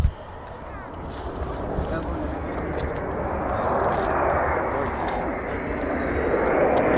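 An F-15 fighter jet's engine roars as a broad, steady rumble that slowly swells in loudness, heard from outdoors with wind noise and a voice talking over it.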